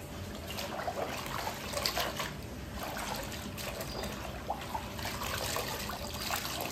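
Dirty water trickles and dribbles steadily while a wall inside a home is wiped down with a cloth, a close, continuous wet trickle with soft scrubbing noise.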